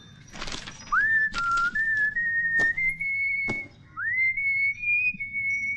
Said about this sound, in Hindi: बस उसी को रिहर्स करने के लिए मैं सीटी बजाता हूँ